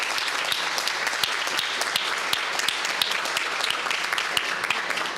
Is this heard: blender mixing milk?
no